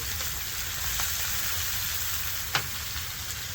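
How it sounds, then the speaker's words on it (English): Steady, dense sizzling of steak frying in a hot pan over high heat, continuous crackle with one brief louder pop partway through. "You have that nice sizzle, hands on high."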